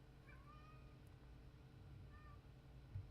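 A domestic cat meows twice, faint and somewhat distant, over a steady low hum in a quiet room.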